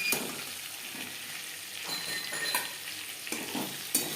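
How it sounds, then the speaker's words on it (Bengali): Pointed gourd (potol) pieces frying in oil in a pan, a steady soft sizzle with occasional stirring scrapes and light clinks, close and fairly quiet, no voices. "পটল বেশ ভালো করে ভাজা হয়ে গেছে"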